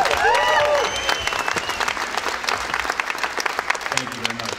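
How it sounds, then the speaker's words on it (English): Audience applauding at a movie world premiere Q&A, a dense burst of clapping that starts loud and eases to a steady patter, with a voice briefly heard over it. "A round of applause for Jason."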